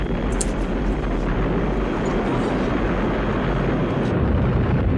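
A huge explosion in the film Aliens, a sustained, loud, deep roaring blast that fills the whole stretch with rumbling noise and never drops away.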